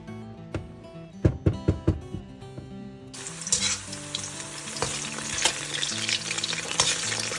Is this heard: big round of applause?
no